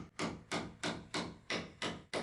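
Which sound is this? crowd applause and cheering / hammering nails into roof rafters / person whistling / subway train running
hammering nails into roof rafters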